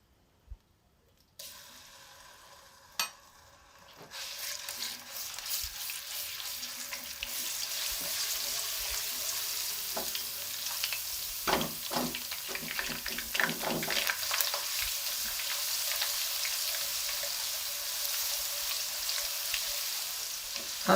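Garlic sizzling in a large cupful of hot oil, starting faint and then building into a steady, loud crackling fry with scattered pops and stirring clinks, heard alone without talk.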